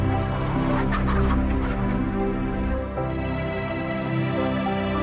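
Dense crowd of hens in battery cages on an industrial egg farm, continuous overlapping clucking and squawking forming a loud, unbroken din with no talk.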